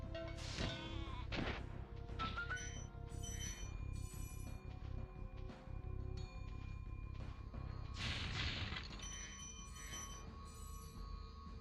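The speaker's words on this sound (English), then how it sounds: "It was a sheep this whole time." Sheep bleats ring out amid busy Spyro the Dragon game sounds on PS1, with chimes and bell-like tones layered over a steady low hum.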